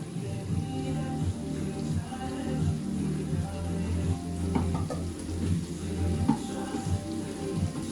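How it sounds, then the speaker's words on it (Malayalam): Masala sautéing in a pan for a Kerala chicken biryani, a steady low sizzle with light crackles and occasional scraping stirs, close and moderate in level. "ഈ മസാല നന്നായിട്ട് വഴണ്ട് വരണം"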